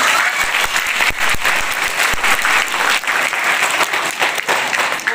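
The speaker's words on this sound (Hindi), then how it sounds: "एक बार जोरदार ताली बजाएं।" Loud, dense applause from a group of schoolchildren fills the whole span, with crisp individual claps standing out over a steady roar of hands and faint crowd murmur.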